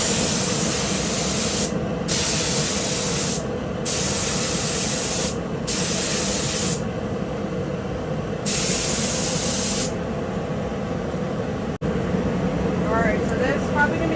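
A spray gun lays down a heavy coat of paint in long continuous hissing passes, broken by several brief pauses between strokes, loud and close throughout.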